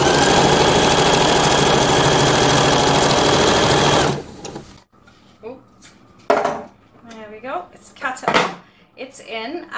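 A sewing machine stitches a ruffle onto a skirt in a loud, steady burst for about four seconds, then stops, followed by quieter handling clatter and a person talking.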